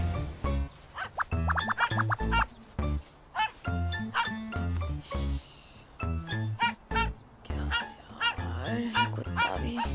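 A dog in a Korean drama scene gives repeated short barks and whimpering yips in quick bursts, fairly close and loud, with brief pauses between calls.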